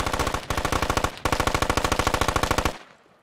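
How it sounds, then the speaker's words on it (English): Automatic rifle fire in the military shooter game Squad: two sharp, close bursts of rapid, evenly spaced shots, a short one and then a longer one, ending with a fading echo. "Dude, I am taking heavy fire."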